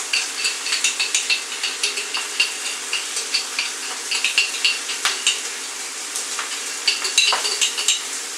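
A metal spoon scrapes repeatedly inside a narrow jar, giving quick rhythmic clinks and scrapes at close range with no talk.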